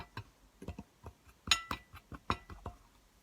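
A spoon clinks repeatedly against a glass bowl while stirring a homemade face mask mixture with olive-oil moisturizer, light irregular taps close by in a quiet room.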